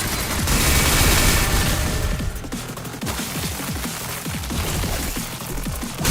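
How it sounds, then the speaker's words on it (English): Blood missiles in the Limbus Company video game pelt a target in a dense, continuous barrage of booming, crackling impacts that stays loud throughout, with no voices over it. "Fire the blood missiles!"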